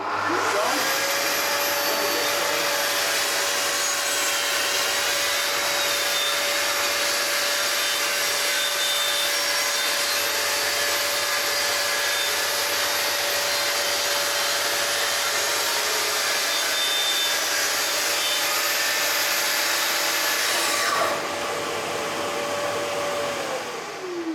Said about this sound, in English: If you want to just plunge the saw and start trimming, make sure it's away from the sheet.